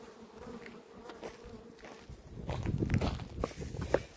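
Honey bees buzz around an opened hive box, a soft steady hum with individual insects droning closer and louder near the end, mixed with light handling knocks and rustles.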